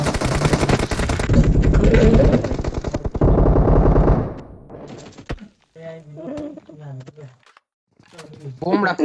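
Rapid automatic gunfire rattles loudly in a shooting video game, firing in dense bursts for several seconds before thinning out while players talk over voice chat.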